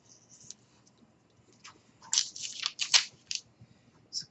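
Scissors cutting a printed PDF paper sewing pattern: close, crisp snipping and crunching sounds, a few faint early cuts followed by a cluster of louder bursts, then one last snip.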